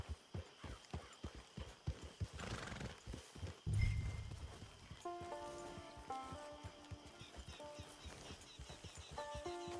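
Horse hooves clip-clop in steady, close rhythm through a Red Dead Redemption 2 game scene, with one loud snort or whinny partway and tonal game music rising behind the later hoofbeats.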